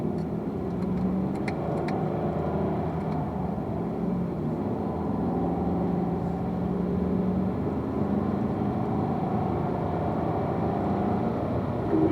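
A car engine pulls steadily in fourth gear on a race track, a loud continuous drone that holds even throughout, accelerating out of a corner with no talk over it.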